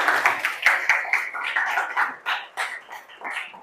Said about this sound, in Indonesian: Kita beri aplaus buat Cynthia.